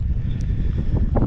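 Wind buffets the microphone in a constant low rumble during cold, rainy off-roading at Capitol Reef, Utah, with a few faint brief sounds poking through near the end.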